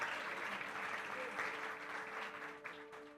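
Congregation applause during a church service, sustained clapping from many hands at moderate distance, tapering slightly toward the end with a soft hum beneath.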